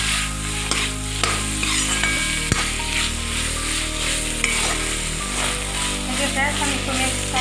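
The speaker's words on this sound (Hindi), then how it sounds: "अब इसमें हम मटर, शिमला मिर्च डाल के आपस में मिक्स कर देंगे।" Peas and capsicum stir-frying in a pan for restaurant-style matar paneer, a steady loud sizzle with repeated scraping and clinking of a spoon as the mixture is tossed, while a voice talks over the cooking.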